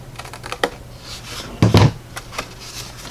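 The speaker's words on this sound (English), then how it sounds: "I am going to use my longer scissors to snip this away." Long scissors snip away the flap of a decorative paper envelope, giving a few quick close cuts and one louder crunch partway through, with no talking.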